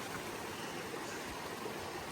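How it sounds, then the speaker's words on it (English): Continuous broadband rush of a full-flowing mountain stream on the Appalachian Trail near Beech Gap, a steady, fairly quiet wash of moving water with no voices. "Got a nice full flowing stream."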